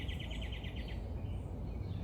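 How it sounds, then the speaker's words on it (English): Small birds chirp in a quick repeated series of high notes in a New York park, faint and fairly distant over low city rumble. "Listen to these birds."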